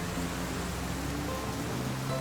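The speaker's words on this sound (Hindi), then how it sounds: "बारिश बहुत तेज है" Heavy rain pours steadily in a continuous, even wash of noise with no clear individual drops and no voices over it.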